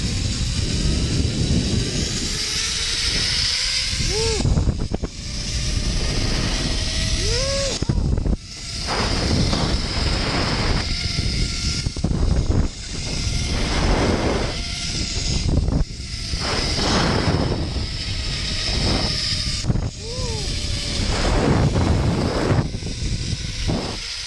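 A zip line trolley runs along a steel cable carrying a rider in a Tethrd Phantom saddle, giving a loud, steady roaring whir buffeted by wind that surges and dips in waves throughout.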